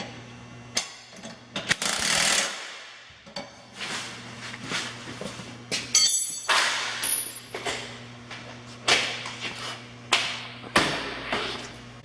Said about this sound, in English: Now once you have the cart fully assembled, go ahead and tighten all the bolts.